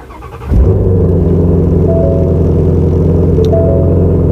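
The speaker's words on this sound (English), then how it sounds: "That V8 startup sound is so good." A Ford Mustang Shelby GT350 V8 cranks and fires with a loud burst, then settles into a steady, deep rumbling idle close by, with no talking.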